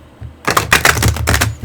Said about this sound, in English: I like being able to shuffle.